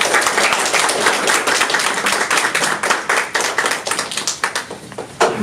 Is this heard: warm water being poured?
no